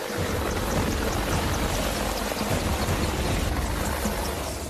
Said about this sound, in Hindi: इसी अंदाज में फाइटर अपाचे हेलीकॉप्टर ऑपरेशन को अंजाम देता है।